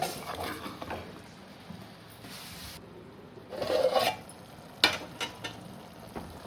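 A spatula scrapes and stirs greens in a pan, a South Indian stir-fry of nethallu thoran with Kerala tamarind, giving soft rasping strokes over a quiet sizzle with a few sharper knocks.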